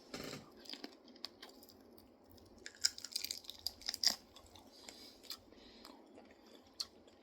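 Someone chews a bite of deep fried squirrel leg with gravy, with soft, close crunching and moist chewing sounds in irregular bursts and no talk.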